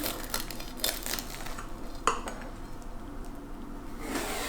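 A knife cuts into an egg and cheese breakfast dish: quiet soft scraping and a single sharp utensil clink against the plate midway, with faint handling noise around it.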